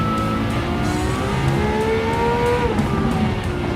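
A race car in a VR sim racing game squeals its tires while the engine drones, a loud, continuous whine of sliding rubber with gliding pitch over a steady motor roar.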